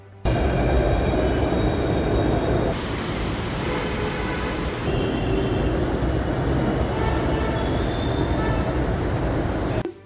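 A Delhi metro train at a station, its steady loud rumble and rolling rail noise filling the scene continuously, with a brief shift in tone midway as the train moves or brakes.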